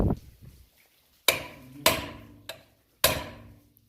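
Four sharp metallic hammer strikes on a swing arm bushing ring out at uneven intervals, close and loud, each with a brief ringing decay; no speech.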